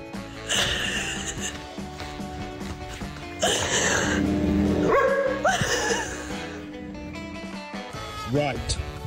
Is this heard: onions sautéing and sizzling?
no